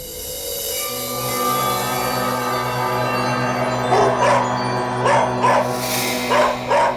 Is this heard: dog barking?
yes